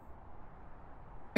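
A single short cough bursts out at the very end after quiet room hiss, close to the mic and abrupt.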